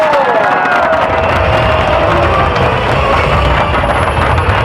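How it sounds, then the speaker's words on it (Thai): A dense, loud crowd roars and cheers continuously as a Muay Thai boxer enters the ring at a Thai boxing event. A rising whistle or tone cuts through early on, and there is no break in the wall of noise. "ครับปรบมือต้อนรับฉลามร้ายแห่งเมืองชน ปตทว รุจินโต"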